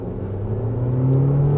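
A hybrid car engine in sport mode rumbles and revs up, its low hum rising steadily in pitch as the car, a BYD Dolphin G DM-i, accelerates hard, heard from inside the cabin.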